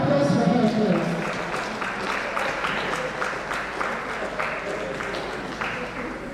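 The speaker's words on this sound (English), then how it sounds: "A round of applause for her," Audience applause greets a lecture speaker at an event on women and human-centered AI, a crowd of hands clapping steadily at moderate loudness, with individual claps audible and a voice speaking at the start.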